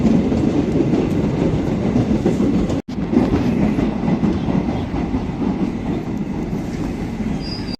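A train pulls into a railway station on a foggy morning, a loud, continuous close rumble with rhythmic wheel clatter and squeal that cuts out briefly and then resumes.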